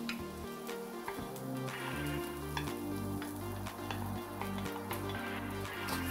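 Onion and spinach sizzle steadily in a frying pan, a close, continuous crackling hiss with occasional stirring clicks and no talk.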